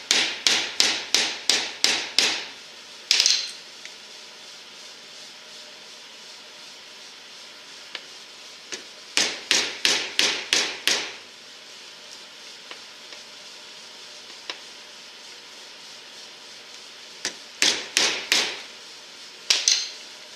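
A hole punch is hammered through gasket material for a 1976 F100 heater core, with sharp close blows coming in three quick clusters of about five strikes each, separated by quiet pauses.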